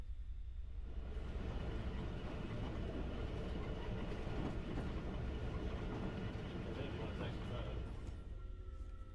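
Train running on tracks, heard from a played recording: a continuous, fairly loud rolling rumble with faint rhythmic clatter throughout, and a voice talking over it.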